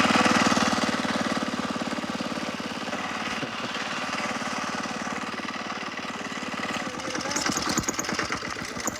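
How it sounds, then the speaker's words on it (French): A motorcycle engine runs with a rough, rapid chugging throb, close and loud, holding fairly steady before faltering and sputtering toward the end as it stalls; no speech. "C'est la moto la plus compliquée que j'ai."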